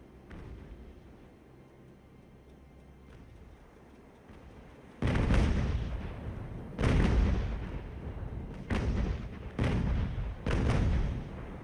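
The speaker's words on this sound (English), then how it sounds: "Let's keep pounding the living daylights out of that then" Heavy naval cannon fire from the age-of-sail battle game Ultimate Admiral Age of Sail: after a quieter stretch, several loud booming broadside volleys erupt in irregular succession, each with a rumbling tail.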